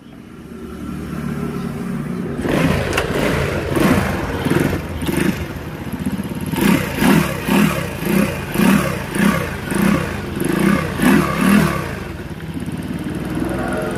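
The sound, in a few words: Euro Marvel 125 motorcycle engine started with kick starter, running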